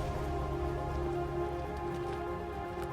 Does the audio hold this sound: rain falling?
yes